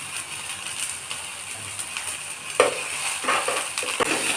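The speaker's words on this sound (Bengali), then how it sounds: "অল্প একটু তেল দিয়ে জিরে ফোড়ন দিয়ে দিলাম, তার মধ্যে দিয়ে দিলাম পেঁয়াজ কুচিগুলো" Chopped onions with cumin seeds fry in a little oil, a continuous close sizzle with soft stirring scrapes and occasional light clicks of a spatula against the pan.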